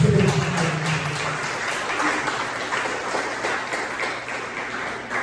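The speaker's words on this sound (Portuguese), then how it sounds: "Aplauda o Senhor" Congregation applauding in church during a sermon, a steady wash of clapping from many people with a low voice or tone murmuring beneath at the start.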